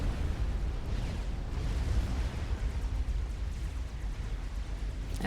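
Rockets and bombs explode continuously in a Supreme Commander: Forged Alliance tournament match, a dense, rumbling barrage of booms and bursts with no talk over it.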